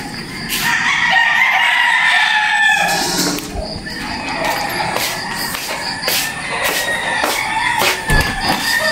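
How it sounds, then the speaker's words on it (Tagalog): Roosters crow loudly nearby while hens cluck and squawk, several birds calling over one another in a busy, echoing coop at a game farm in Batangas. "kung saan namin nilalagay yung aming mga alagang manok"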